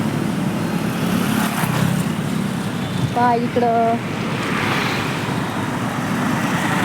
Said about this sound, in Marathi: हे गाड्या किती येतात